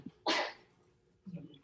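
A single sharp sneeze bursts out nearby in a quiet indoor room during an online programming lesson, followed a second later by a softer breathy sound.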